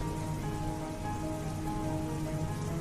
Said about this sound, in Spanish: No te quedes allí bajo la lluvia.